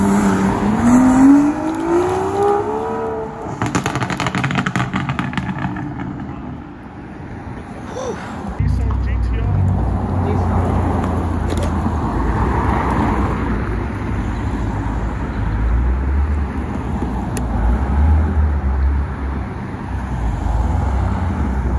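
An Aston Martin V12 Vantage supercar pulls away on a street in Alderley Edge. Its engine rumbles and revs loudly nearby, with traffic noise and bystanders' voices around it.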